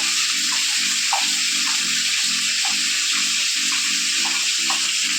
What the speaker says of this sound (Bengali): জল